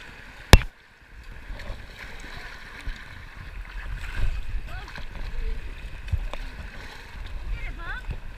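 A kayak pushes through Class 3 white water rapids on the Rio Mayo in Peru, with a steady rushing roar of water, a sharp knock near the start and scattered splashes from the paddle.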